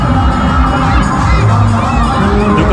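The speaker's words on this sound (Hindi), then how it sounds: "बहुत भीड़ है यहाँ पर।" Huge crowd of festival-goers at a Durga Puja celebration in Sultanpur at night, a dense continuous roar of voices with children shouting and cheering throughout, close and loud.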